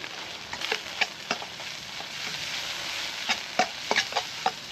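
Chicken pieces fry in a wok over a fire, with a steady sizzle and sharp scraping stirs of a utensil against the metal at irregular intervals, close and clear, with no talking.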